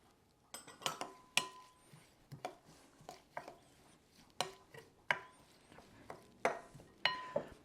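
A utensil stirs lime juice and cilantro together in a bowl, producing a series of sharp, irregular clinks and taps against the bowl, close and fairly quiet, with no talking.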